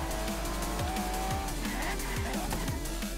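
A car in the racing game Forza Horizon 3 heads into the Australian outback, its engine droning loud and constant with squealing tires and skids layered over it.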